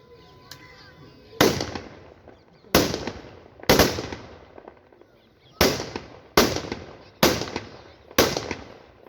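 Rifles fire a ceremonial volley salute at a funeral, about seven sharp, loud reports spaced roughly a second apart, each ringing out with a decaying echo, outdoors with no talk between shots.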